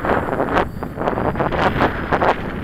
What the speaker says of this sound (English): Oh man, look at that wind.